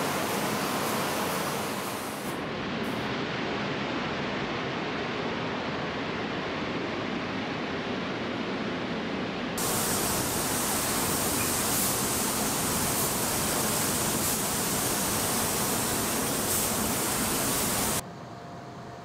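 Spray gun laying Ferrari red base coat inside a professional paint booth: a steady, loud hiss of atomized air, with a brighter, fuller spray burst through the middle before it cuts off near the end.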